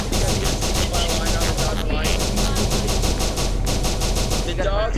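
Rapid automatic gunfire from the video game SCP: Secret Laboratory, loud and continuous with brief gaps as bursts restart, a fast rhythmic stream of shots.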